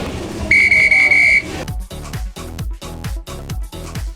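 A sharp, steady whistle blast signalling the start of a high-intensity workout round lasts about a second, followed by thumping rhythmic music with a steady beat.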